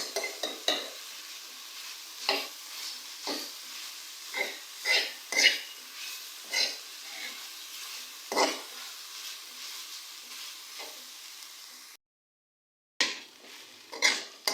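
Minced meat browning with salt, coriander and cumin powder in a pan, a steady soft sizzle broken by repeated scrapes and knocks of a stirring spoon, close by, with a brief silent gap near the end.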